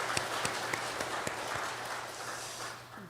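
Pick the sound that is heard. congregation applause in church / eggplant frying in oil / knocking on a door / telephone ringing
congregation applause in church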